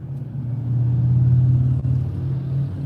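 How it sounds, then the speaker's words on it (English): Motorbikes roll off a ferry with a steady, close engine rumble, low and continuous, rising slightly then holding. "here's the motorbikes"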